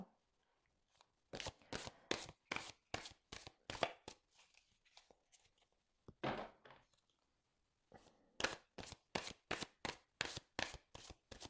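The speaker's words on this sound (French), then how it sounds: "on va tirer une carte de l'oracle des anges" Angel oracle cards being shuffled and drawn, a run of quick, crisp riffling slaps in bursts with short pauses between them, close by and alone with no talk.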